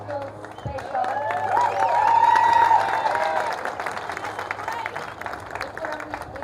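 The crowd at a women's padel tennis final in New Jersey claps and cheers in a sustained wash that swells and then fades slowly, while a voice speaks over it.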